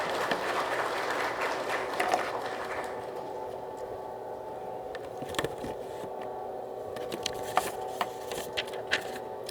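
Audience applause greets a fire agency official taking the stage at a 2024 fire industry policy briefing, a steady moderate wash of clapping across a hall with a few sharper claps standing out.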